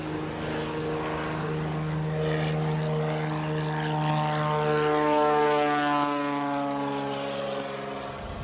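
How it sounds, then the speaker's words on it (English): A Bellanca Viking propeller airplane makes a short field takeoff, its engine droning loud and steady with a rising, shifting tone as it passes, heard alone without talk. "that short field takeoff in a long shot to give you a better idea of just how little runway the Viking needs to get off the ground"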